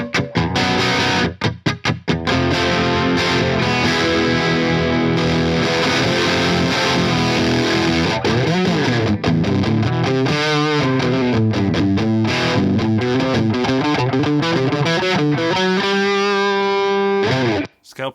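An electric guitar runs through an Iron Horse V3 distortion pedal at a low-gain clean setting, playing scale runs and sliding notes in a steady stream, loud and close, with a few brief pauses near the start.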